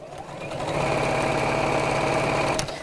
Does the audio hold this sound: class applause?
no